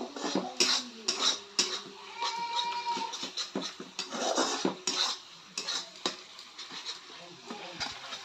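A spoon stirs salt and ground spices such as coriander and cumin in a metal pan for a village-style garlic curry, making intermittent clinks and scrapes at close range, with speech in places.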